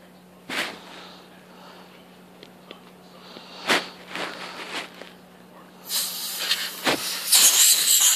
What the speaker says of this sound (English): Now I'm gonna go clean it with some contact cleaner